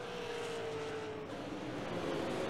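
Stock race cars circling Stafford Motor Speedway in a Tundra Super Series race, a steady engine drone with a rising pitch as a car runs through the turns, loud and continuous with no talk.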